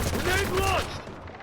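In the video game Delta Force, a grenade-firing weapon lets off a short burst of loud, close reports, followed by a quieter fading tail.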